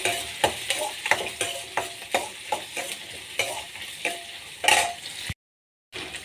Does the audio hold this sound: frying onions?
yes